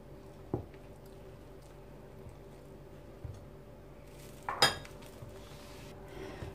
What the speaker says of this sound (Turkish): Tüm malzemeleri karıştırıyorum.